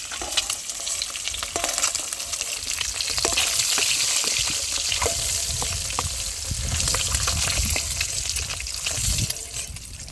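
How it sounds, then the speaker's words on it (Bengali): Boiled country-chicken eggs fry in oil for an egg biryani, giving a loud, dense sizzle with scraping stir sounds scattered throughout, cooked outdoors. "ডিমগুলোও ভাজা হয়ে গেছে, তুলে নেব।"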